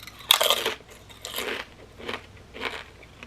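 Tortilla chips dipped in salsa are bitten and crunched close to the mic, with one sharp loud bite followed by several softer chewing crunches spaced about a second apart.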